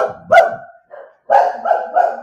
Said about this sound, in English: oh, there goes my dogs